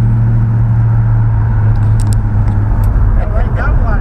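A 1955 Chevy with a swapped engine pulls hard in third gear, a loud steady low rumble that holds across the whole moment while voices talk faintly over it.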